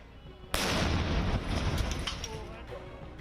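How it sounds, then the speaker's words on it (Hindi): Controlled detonation of a recovered IED by a bomb disposal squad in Jammu and Kashmir: one sudden loud boom that rolls out into a long rumbling decay with debris-like rustle, heard from a distance. "असल में यह धमाका उस आईईडी को निष्क्रिय करने का था"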